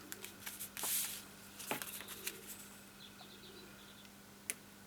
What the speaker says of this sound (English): So I push that one down, then I can take the tape off the rest of it